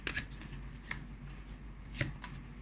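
Tarot cards are shuffled and drawn in a few soft, quick riffles and flicks at a quiet, close level, with faint background hush between them.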